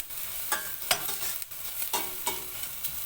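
Onions frying until caramelized in a hot pan, sizzling, with a utensil stirring and scraping in a few distinct strokes; close and moderately loud, no talking.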